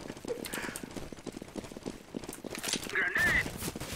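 Donkey in a video game, heard as hoof-like clip-clop taps with a brief brayed whinny near the end, set against a busy game mix and background chatter.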